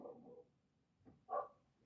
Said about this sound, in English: my dog's just going crazy in the background.